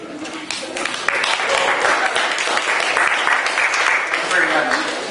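An audience at a town hall meeting applauds a speaker, dense clapping that swells and holds at a fairly loud level, with some voices audible underneath.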